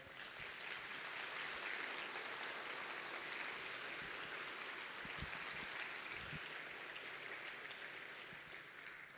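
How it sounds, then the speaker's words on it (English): Sustained audience applause for a speaker at a live event, a steady wash of many hands clapping that holds for the whole stretch and eases slightly at the end. "let's give Tejas another huge round of applause."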